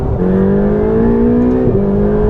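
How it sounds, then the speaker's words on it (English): A turbocharged Ferrari 488 GTB engine drones steadily up close, with a high rising whistle of turbochargers spooling over the deep growl. "can you hear those turbos? That is turbo action going on there."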